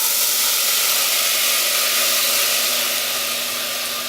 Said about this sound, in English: they are frozen, so that's where the sizzling's coming from, is all the water